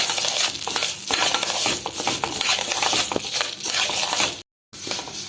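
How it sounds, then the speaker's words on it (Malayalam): Urad dal roasting in coconut oil while being stirred, a close crackling sizzle with gritty scraping and rattling of the lentils against the pan in uneven strokes, briefly cut near the end, no talking. "കുറച്ച് വെളിച്ചെണ്ണ ഒഴിച്ചിട്ട് അതിലേക്ക് ഈ എടുത്തു വച്ചിരിക്കുന്ന ഉഴുന്നിട്ട് നല്ല ബ്രൗൺ കളർ ആകുന്നത് വരെ നന്നായിട്ട് വറുത്തെടുക്കാം."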